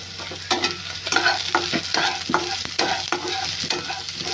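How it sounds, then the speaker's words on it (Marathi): Okra stir-fried with browned onion in a pan for a village-style wild vegetable dish: steady sizzling under repeated scraping spatula strokes that come in an uneven rhythm, close and fairly loud, with no voices. "मी आता त्याच्यामध्ये भेंडी टाकून घेते"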